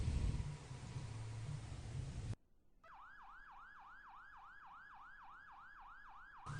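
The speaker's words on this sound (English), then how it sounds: "And hit the siren brake." A video game fire engine siren plays alone: after a burst of broadband noise cuts off, a wailing electronic yelp repeats in rapid, even rising sweeps for several seconds.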